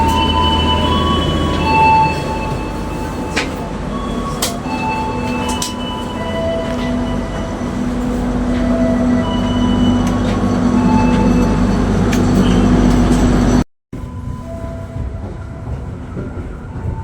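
Loud, continuous rumble and wheel squeal inside a moving train carriage in Indonesia, heading toward Magetan. The noise runs steadily with no talk, then cuts off sharply near the end to a much quieter hush.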